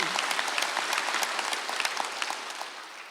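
A church congregation claps together in sustained applause during a Sunday worship service, a dense crackle of hands that tapers slightly toward the end.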